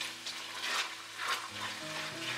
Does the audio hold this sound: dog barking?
no